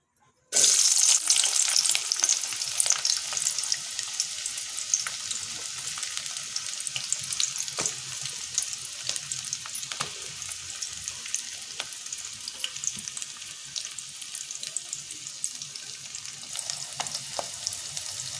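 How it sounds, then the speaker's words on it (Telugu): Steady crackling sizzle in hot oil heated for fish curry gravy, starting abruptly and continuing with sharp pops, with no voices. "గ్రేవీ కోసం నూనె కాగింది"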